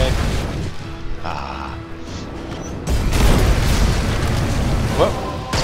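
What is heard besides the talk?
grenade explosion in Magicka video game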